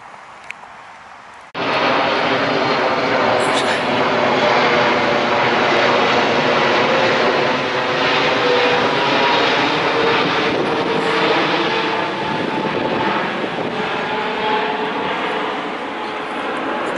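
Plane passing low overhead near Windsor Great Park swells abruptly from a quiet outdoor background into a loud, broad roar that holds and slowly fades.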